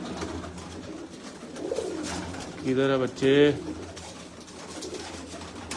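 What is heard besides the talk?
pigeons cooing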